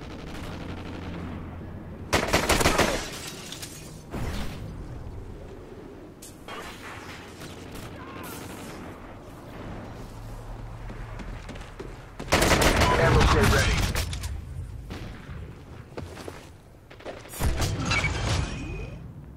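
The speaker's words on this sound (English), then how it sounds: "I think it's called the M9 or something like that. It's a pistol, obviously." An M9A1 pistol fires in a video game in several loud bursts of shots spread across the clip, with mechanical clicks between them and a voice talking underneath.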